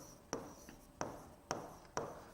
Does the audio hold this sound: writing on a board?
yes